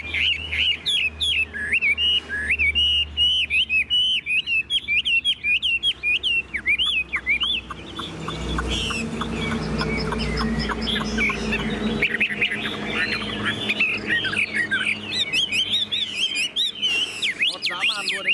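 A Chinese hwamei songbird sings loudly and close by in rapid, varied whistled phrases and chirps, repeated almost without pause, then breaks into denser, scratchier warbling with more background noise.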